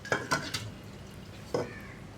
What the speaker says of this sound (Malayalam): കുക്കറിലേക്ക് നമ്മൾ കഴുകി വൃത്തിയാക്കി വെച്ചിരിക്കുന്ന പരിപ്പിട്ട് കൊടുക്കുക.